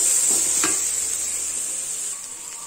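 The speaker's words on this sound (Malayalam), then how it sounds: "നന്നായി ഇളക്കി കൊടുക്കുക" Masala frying in a pan and being stirred, with a steady hiss of sizzling oil and a couple of brief scraping strokes near the start, close and moderately loud, no voices.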